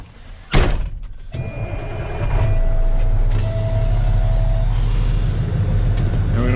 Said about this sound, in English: Drop the air in the truck.